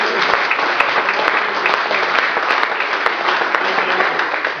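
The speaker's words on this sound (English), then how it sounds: "But please, a round of applause again for John." Steady, dense applause from an audience after a poetry recital of The Long Garden, close and loud, filling the whole stretch without pause.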